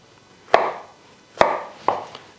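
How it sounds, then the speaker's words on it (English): Knife chopping an onion into 3 cm dice on a board: three to four crisp, separate chops spaced unevenly, close and clear with short decays, no talking. "And then we're cutting our, say, 3 by 3 centimeter"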